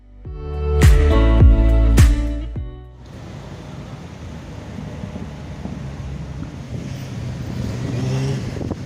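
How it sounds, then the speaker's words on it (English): Traffic jam on a road: steady broadband rumble of many idling and creeping engines, continuous and mid-distance, preceded by a few seconds of loud tonal music. "you might be wondering why I'm recording a traffic jam next to ATASCO"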